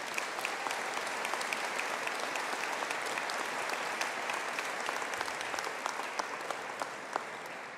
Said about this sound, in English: A big round of applause for our sport management students.